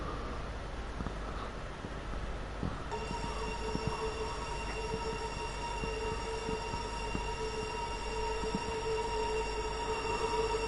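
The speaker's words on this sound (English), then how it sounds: "Oh, that train is a bit annoying." A train passes in Train Sim World 2 on the Southeastern line between Gravesend and Faversham, a steady rumble of wheels on rails with a rising sustained wheel squeal, heard alone without talk.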